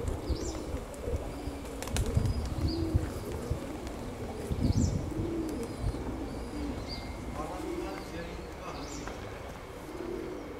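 Gyumri Leninakan pigeons kept in Moscow, soft repeated cooing from several birds nearby with occasional bursts of wing flapping, over a low background of ambient noise and faint voices.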